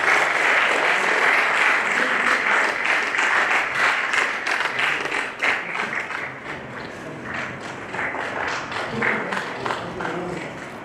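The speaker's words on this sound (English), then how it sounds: "invite him onto the dais with a big round of applause" A sustained round of audience applause greets the Dean of the School of Sciences, Woxsen University, as he comes onto the dais at a collaboration signing ceremony; dense, steady clapping fills the room throughout and tapers slightly near the end.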